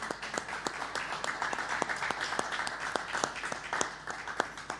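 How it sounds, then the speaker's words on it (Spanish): Congregation at a youth church service applauding together, a steady wash of many hands with sharper individual claps standing out, moderately loud and continuous with a faint voice underneath. "¿Qué tal si le damos un fuerte aplauso a nuestro Dios por eso?"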